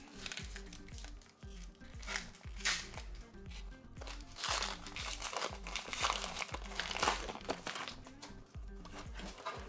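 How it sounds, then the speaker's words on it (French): Crinkly plastic wrapper of a Pokémon card booster pack being torn open and crumpled by hand up close, a continuous run of crackling rustles and tearing bursts at moderate volume. "Je vais ouvrir mon booster moi."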